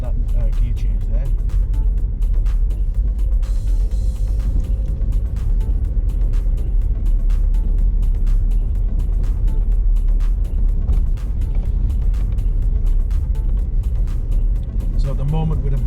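A car's engine hums steadily as it takes a severe bend on a country lane and shifts down to second gear, a low continuous drone with road noise throughout while a person talks over it.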